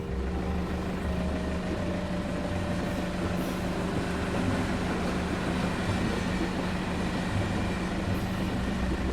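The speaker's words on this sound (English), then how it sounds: "I hear a train." A train passing in a horror video game, heard as a steady, continuous low rumble with a faint tonal hum, moderately loud and unbroken across the whole stretch, with no talking.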